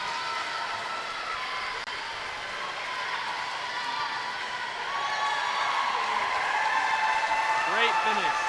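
An indoor natatorium crowd cheers and screams for a swimmer in a race at a spring swim meet, a steady loud roar of voices that swells louder in the second half.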